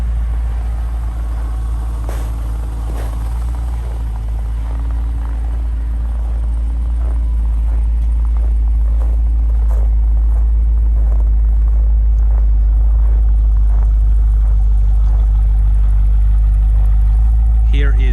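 A remote-started 2021 Jeep Grand Cherokee SRT idles with a deep, loud, steady engine rumble that holds evenly throughout, with faint scattered ticks above it.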